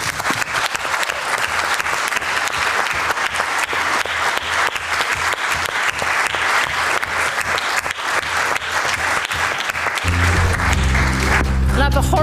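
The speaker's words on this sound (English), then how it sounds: "Can we have a huge big round of applause for everybody here and Paddy Board?" Audience at a talk on Norwegian local democracy breaking into sustained applause, dense steady clapping filling the room for about ten seconds before a voice begins speaking over its tail.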